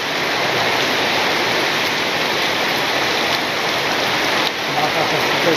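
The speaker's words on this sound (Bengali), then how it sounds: "এখানে বৃষ্টি, মানে মুষলধারে বৃষ্টি যেটাকে বলে।" A torrential village downpour roars steadily and close by, a thick continuous wash of rain on surfaces that barely changes over the whole stretch.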